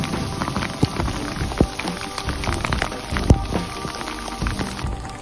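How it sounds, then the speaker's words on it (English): Heavy rain pours nonstop on a Colorado mountainside near Crestone Needle during a storm with hail, a steady close-up patter with sharp drops striking surfaces throughout, no voices. "So, it's been nonstop pouring for the last half hour."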